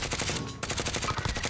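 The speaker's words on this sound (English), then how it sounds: "They're sniping." Gunfire in a Call of Duty match with sniping underway, a dense stream of rapid shots at close range with a brief dip partway through.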